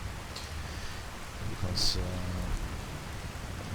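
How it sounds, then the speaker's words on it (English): A thunderstorm in a modded video game: steady heavy rain on surfaces with a brief rumble of thunder and a sharp crackle near the middle, the downpour continuing evenly around it. "This is, of course, true storms going on with lighting."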